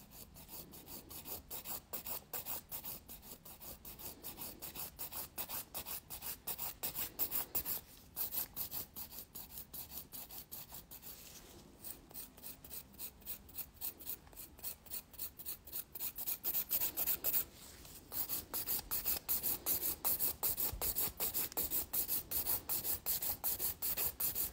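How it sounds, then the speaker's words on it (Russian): A nail file rasps along the smile line of a nail extension in quick, even back-and-forth strokes, soft and close, with a few brief pauses between runs and no talking. "Обязательно пропиливаем по линии улыбки."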